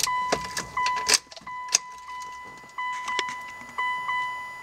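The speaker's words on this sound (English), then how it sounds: "So now I'm going to start up the car and see if it works." Mitsubishi Evo being started after an aftermarket radio install: a sequence of clicks, chimes and electrical beeps from the car's ignition and electronics, close and intermittent.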